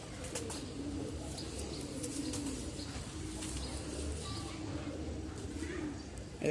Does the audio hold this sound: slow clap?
no